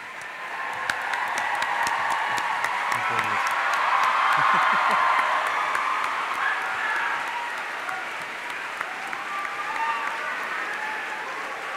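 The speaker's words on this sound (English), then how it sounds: "Give them a huge round of applause." Audience applause at the BT Young Scientist and Technology Exhibition 2018, a large crowd clapping steadily that swells to a peak and then fades slightly, with scattered whoops over it.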